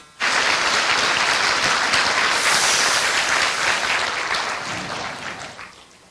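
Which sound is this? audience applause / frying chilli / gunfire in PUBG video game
audience applause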